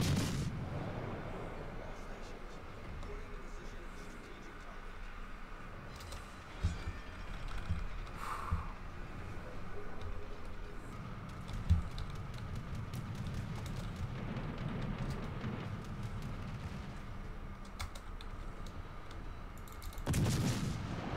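Naval guns fire in a World of Warships match, heard as low rumbling booms and muffled shell blasts under a constant engine-like drone, with a few sharper hits scattered through.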